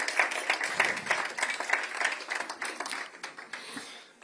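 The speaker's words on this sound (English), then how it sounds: "please clap for them" An audience at a Nova Music exhibition event claps briefly for people being honored. The applause is a dense patter of many hands that gradually thins out over a few seconds.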